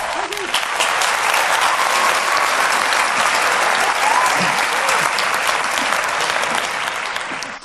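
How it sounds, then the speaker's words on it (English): A conference audience gives loud, sustained applause for a forecasting presenter. The full, steady clapping carries faint crowd voices beneath it and tapers slightly at the very end. "Please give a big round of applause for Synth."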